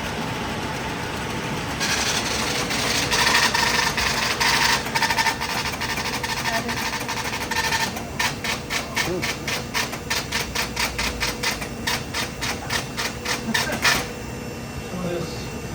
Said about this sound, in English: the output of the program is now done on the printer